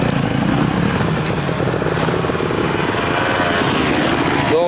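A small engine warming up after the choke is set, a close, loud, continuous buzzing drone holding steady throughout with faint voices underneath.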